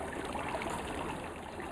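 A stream runs steadily outdoors in a natural shady spot, a soft continuous babble and trickle of water, faint and even throughout with no voices.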